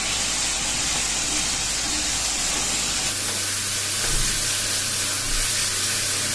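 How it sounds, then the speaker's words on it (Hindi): Finely chopped chillies, tomatoes and onions frying in ghee in a pot give a loud, steady hiss and sizzle close by, with a low hum in the background. "ये जो मिर्चें, टमाटर और प्याज जो अम्मी जी ने काटे हैं, बारीक बारीक किए हैं, इनको ना इधर ना घी में बर्तन में डाल के ना अच्छी तरह ना भून लेना है"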